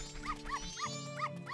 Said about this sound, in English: This little spunky guy barking at everyone?